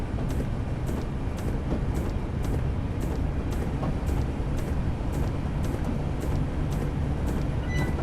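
Class 483 electric train coasting with power idled in Train Simulator 2016, a steady rumbling rail roar with rhythmic wheel clicks over rail joints at regular intervals, fairly quiet and continuous.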